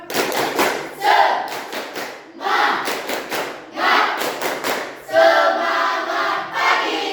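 A group claps together in a rhythmic pattern of quick bursts separated by short pauses, loud and close, with voices mixed in.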